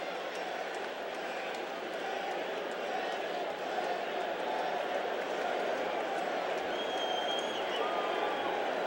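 A New York stadium crowd at a 1986 Mets game roars in a dense, steady wash of cheering and clapping as the Mets close in on the NL East crown, heard from a distance throughout.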